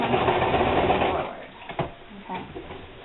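A sewing machine runs fast, stitching the finishing seams on a fabric winter hat with a dense mechanical whir, working backward and forward, then stops after about a second and leaves quieter handling noises.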